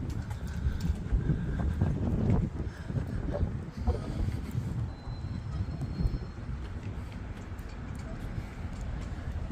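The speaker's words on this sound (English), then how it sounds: "it's quite windy down here today" Wind buffets the microphone in a steady, low roaring rumble that runs the whole time, with gusts swelling and easing. No voices.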